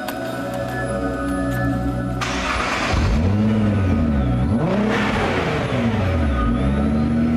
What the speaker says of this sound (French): le moteur rejoint le banc de puissance où il démarre pour la toute première fois